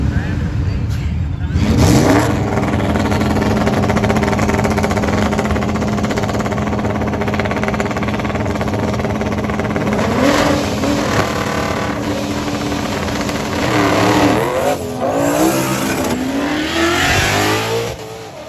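Ford Mustang cars racing each other, their engines revving and accelerating hard in loud rising and falling surges, with voices faintly mixed in.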